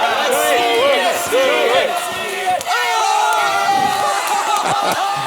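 Loud crowd cheering and shouting at the World Series of Poker Main Event final table, with many overlapping voices yelling excitedly in a sustained roar throughout.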